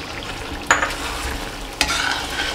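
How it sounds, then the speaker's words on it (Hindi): Chicken frying in a pan with whisked yogurt, cream and black pepper, sizzling steadily while a spoon scrapes and stirs through it twice, close and clear with no talking. "अब इसको अच्छी तरह भूनेंगे,"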